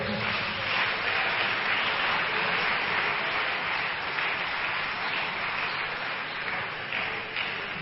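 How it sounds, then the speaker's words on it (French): A church congregation claps for the technicians, with sustained, dense applause filling the whole stretch, loud and steady with no pauses. "Est-ce qu'on peut acclamer pour les techniciens?"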